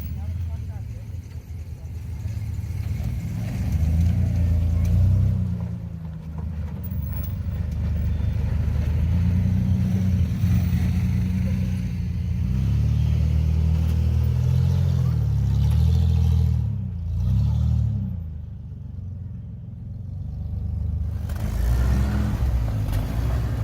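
Jeep XJ engine working at low pitch while crawling up rocks on a group trail ride, a steady rumble that swells and eases with the throttle, fairly close, dipping briefly near the end.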